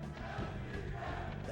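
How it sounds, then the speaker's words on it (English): Crowd at a Super Smash Bros. event chants in a dense, continuous roar, many voices blending together at a distance with no clear individual words, steady and fairly faint throughout. "Oh, we got some HBox chants in there"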